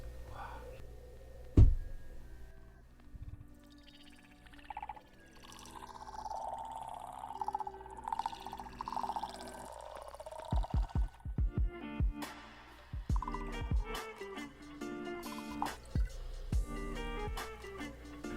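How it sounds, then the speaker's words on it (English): A slow pour of mead from Lost Cause Meadery (Thou Shall Covet) into a glass, heard as a soft, close liquid trickle with light splashes that builds over several seconds, mostly alone with faint background sounds. "Definitely going to try to get you a slow pour per our usual."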